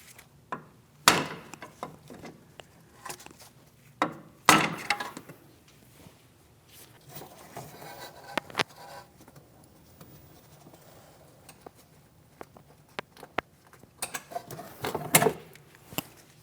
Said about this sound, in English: I'm going to lightly tap on the outer aspect of that pry bar